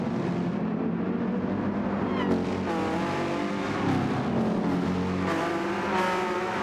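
A Porsche race car howls around the Nurburgring GP circuit in a racing video game, its engine note climbing and dropping through gear changes with brief tyre squeal, loud and continuous throughout.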